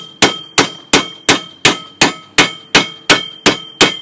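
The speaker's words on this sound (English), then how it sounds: "Good grip on the hammer there, and just start bashing it down and slowly rotating it." Hammer blows striking the edge of a 1926 car's front fender, sharp metallic clangs repeating at a steady rhythm about every 0.4 seconds, loud and close, each ringing briefly before the next strike.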